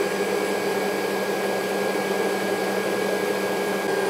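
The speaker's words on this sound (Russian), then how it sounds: "Мы взбиваем 10 секунд после того, как закончили добавлять сироп." A mixer whips protein custard cream in a hot bowl after syrup is added, giving a steady, loud motor whir with a constant hum and no breaks.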